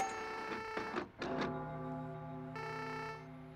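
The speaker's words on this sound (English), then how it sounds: "12 a.m., the printer." A printer whirs and churns inside a video game, a mechanical run broken by brief clunks near the start, then a steady buzzing hum that swells again later, with no voices over it.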